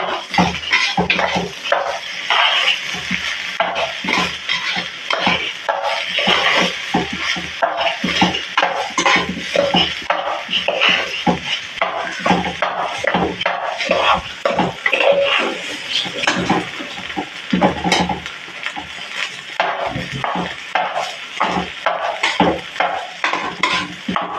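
Biryani ingredients stirred in a cooking pot, with a metal spoon repeatedly scraping and clanking against the pot in quick, continuous strokes over a soft sizzle, close and loud, no voices.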